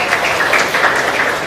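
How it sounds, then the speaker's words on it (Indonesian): A classroom audience of children applauds together in a brief, loud, dense burst of clapping that lasts the whole moment without pause. "Tepuk tangan untuk kita semua."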